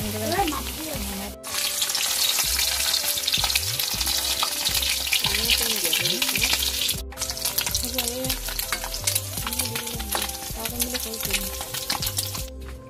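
Paneer fries in oil in a wok, a dense near sizzle broken by a few short pauses, with frequent stirring scrapes and a quiet voice in the background.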